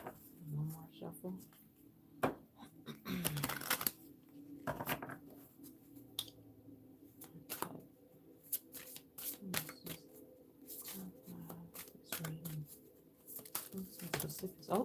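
Repeated crisp riffling bursts of cards being shuffled, close by, with quiet talk and small handling noises between the shuffles.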